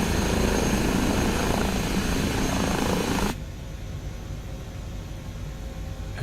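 Airbus H160 helicopter engines spooling up in Microsoft Flight Simulator, a steady whining turbine roar with hissy broadband noise that suddenly drops to a quieter, duller hum partway through.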